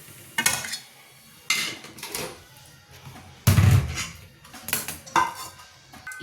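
A metal pan is set down on a home kitchen stove during Marathi cooking, with several sharp clanks and knocks of cookware spaced a second or two apart. Quiet pauses fall between the clanks, and nobody speaks.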